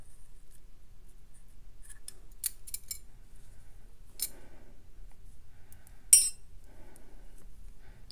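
Scissors snip loose crochet yarn strands from a granny dress sleeve, a few sharp, quiet, close cuts scattered among near silence.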